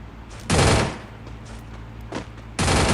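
Gunfire in the Free Fire mobile game sounds as two loud bursts of rapid shots, with a short single crack between them, and no voices over it.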